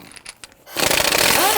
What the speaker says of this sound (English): we're going to use our 19mm socket to loosen the lug studs